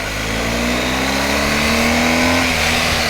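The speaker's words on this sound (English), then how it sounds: "the exhaust. It howls like, I don't know, a diesel pickup truck or something" A BMW R 1250 GS motorcycle exhaust howls under acceleration, a loud, close, continuous engine drone whose pitch climbs steadily before settling, with no talk over it.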